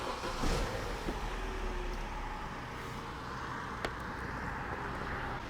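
An Opel/Vauxhall Astra with an O2 heater fault code starts up, a brief low burst at ignition settling into a steady engine rumble without a break.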